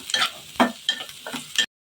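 Chopped onion softening with salt in a pan for a chicken and flour snack, five short scraping stirs in a slow rhythm over a light sizzle, close and clear, ending abruptly.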